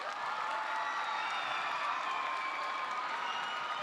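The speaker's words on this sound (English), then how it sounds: "everyone, round of applause for my Uncle Clark." A school audience applauds for a guest speaker. The clapping is continuous and dense, with a faint crowd murmur under it, and it holds steady and moderately loud throughout.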